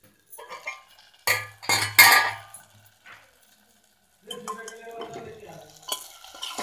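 Tomato and onion for matar paneer stirred in a pan, with close metallic scrapes and clinks of a spoon against the pan in short bursts, a quiet pause, then a lighter sizzling and stirring passage.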